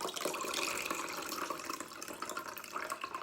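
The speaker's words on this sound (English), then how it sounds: "And you pour this out. And that is your beautiful ginger beer." Homemade ginger beer made in a Thermomix poured out with a spatula holding back the solids, a steady splashing, trickling liquid stream heard close and alone for the whole stretch.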